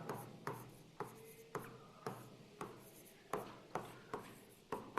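Chalk or a marker writes on a board in quick repeated strokes, each starting with a sharp tap and trailing off in a soft rub. The strokes come about every half second in a close, quiet room.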